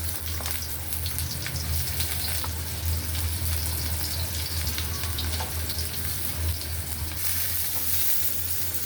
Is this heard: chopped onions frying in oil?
yes